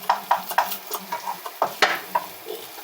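Half-cooked pasta is stirred in a hot pan, with a spoon scraping and knocking in distinct strokes over a light sizzle. The sound is close and fairly loud, with no voices.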